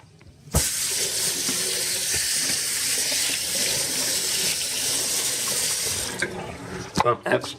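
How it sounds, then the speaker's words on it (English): Raw baby back ribs being rinsed under a running kitchen tap, a steady, close hiss of water pouring into the sink that holds for several seconds before breaking into a few splashes and clatters at the end. "You first want to wash your ribs off."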